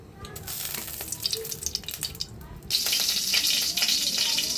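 Mustard oil in a pan hisses and crackles, starting softer with scattered pops, then jumping to a loud, steady sizzle partway through, close by with no voices.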